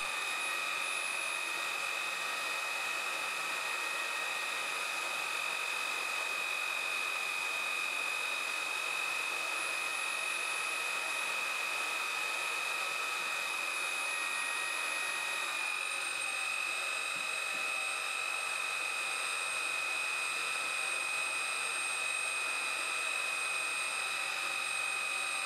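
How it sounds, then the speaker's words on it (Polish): A Dreame Z10 Station cordless vacuum's self-emptying dock runs with a loud, steady high-pitched whine and airy rush. The whine shifts slightly in pitch partway through, and no one speaks. "Głośność stacji jest zbliżona do samej głośności odkurzacza."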